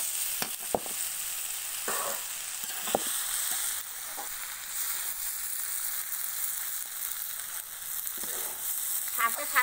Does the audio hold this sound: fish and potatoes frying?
yes